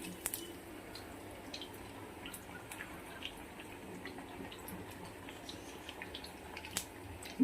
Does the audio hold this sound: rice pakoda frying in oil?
yes